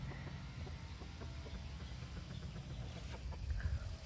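Chickens cluck softly in a chicken yard, faint scattered calls under a steady, noisy outdoor background.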